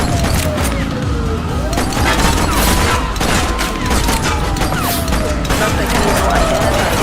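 Gunfire in a police shootout from The Precinct video game, with a near-continuous chatter of shots and mechanical clatter over a dense, loud backdrop, joined by siren-like tonal sweeps and radio-style voices.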